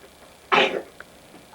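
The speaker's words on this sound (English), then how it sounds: "You're really coughing today." A young child gives a single short, harsh cough, close and fairly loud, followed by a faint tiny sound.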